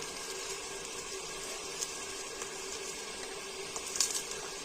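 Water heating in a cooking pot on the stove before rice is added, giving a steady, faint low hiss and gentle simmering texture with a couple of soft clinks, no talking.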